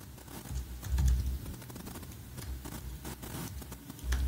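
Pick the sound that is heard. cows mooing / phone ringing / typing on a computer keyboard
typing on a computer keyboard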